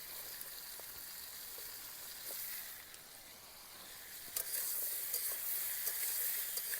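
Cut papaya and potato pieces go into a hot frying pan for a village-style fish curry, giving a soft, steady sizzle that grows a little louder partway through, heard alone and fairly faint.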